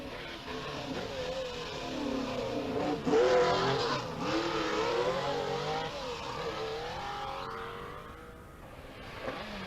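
Rally car of Cathal Curley of Derry racing past, engine revving hard with squealing, skidding tyres, loud and continuous with a shifting engine pitch throughout.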